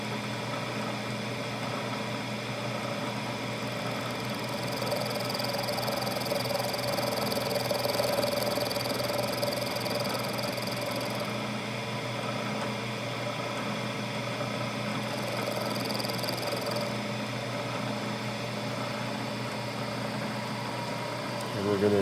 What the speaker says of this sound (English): And we're climb milling